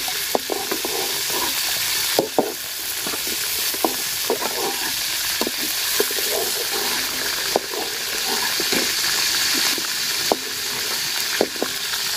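Fish frying in oil in a pot sends up a steady, loud, close sizzle, with scattered knocks and scrapes from a utensil throughout.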